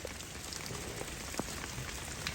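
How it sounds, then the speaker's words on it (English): Steady rain patters on a surface in a continuous broadband hiss with scattered droplet hits, one sharper drop standing out, no voices present. "it's raining"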